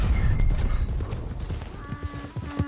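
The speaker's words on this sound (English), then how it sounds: "That's the horse." Horse hooves clip-clop in Red Dead Redemption 2 as the horse moves, with steady, close thuds over a loud, rumbling game background and occasional tonal game sounds.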